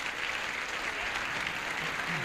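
An audience applauds on a 1975 CBS daytime game show, clapping steadily in a broad wash of applause, fairly close and even, while a voice briefly speaks underneath.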